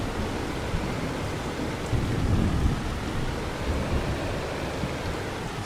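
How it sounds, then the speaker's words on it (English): Rain in the farming game Farming Simulator 25 falls as a steady, full rushing wash with low rumbling swells, filling the whole stretch without talk. "It's not raining that hard though"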